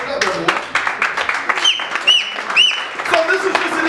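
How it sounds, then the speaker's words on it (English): An audience at an award ceremony breaks into applause, a scattered clapping that runs beneath a speaker's voice, with a few sharp whistles cutting through. "Clap it up, everyone."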